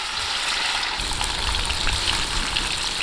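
Marinated beef hitting hot oil in a kadai, a loud, dense, continuous sizzle and crackle that flares up sharply after the first second and stays strong, with no voices over it.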